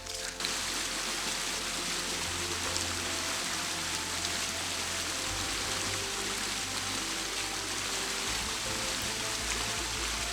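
A river stream near a Welsh bothy flows continuously, a broad steady rushing wash that stays close and even from start to finish, with no talking.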